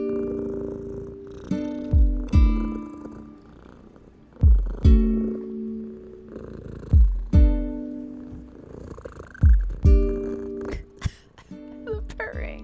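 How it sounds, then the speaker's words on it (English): A cat's purr sits inside a chill beats track, mixed under repeated low melodic tones and soft percussive hits that recur through the passage. "The purring."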